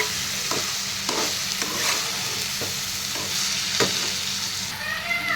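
Chili powder is stirred into ivy gourd frying in a pan, giving steady sizzling with repeated scrapes and clinks of the spoon against the pan, close and continuous.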